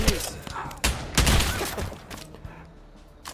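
Gunfire in a VR shooter game rings out as a cluster of sharp, loud shots and bursts over about three seconds, with a dense noisy background behind them.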